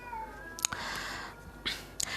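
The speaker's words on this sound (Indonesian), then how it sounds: "Nih kucing aku" Close, fairly quiet cat meows, three or four short drawn-out calls spaced across a couple of seconds, heard alone in a still room.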